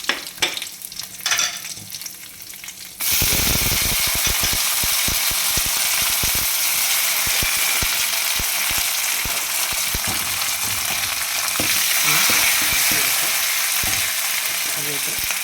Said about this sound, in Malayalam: കടുക് പൊട്ടിക്കഴിഞ്ഞ് നമ്മൾ ഈ നാട്ടുമാങ്ങയാണ് ഈ ടൈപ്പ്.